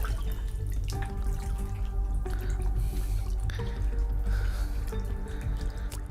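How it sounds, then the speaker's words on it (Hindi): Water flows steadily through an underground cave stream beneath a Narasimha shrine in Bidar, a constant close gurgling rush with dripping and splashing textures and no talking. "लेकिन नीचे पानी का बहाव आप लगातार महसूस कर सकते हैं।"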